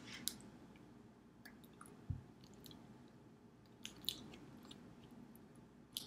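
Quiet bites and chewing into a strawberry champagne snack: soft wet squishes and faint crunches with a few sharp clicks, close to the mouth and otherwise near silent.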